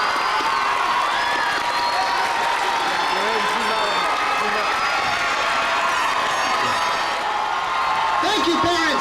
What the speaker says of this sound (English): I would like for our parents and our extended families to please give them a round of applause for all their hard work in graduating from high school